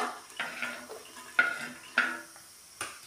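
Browned fried potatoes being moved from the pan onto a plate, with a few distinct clinks and scrapes of utensil against cookware spaced across a quiet kitchen background.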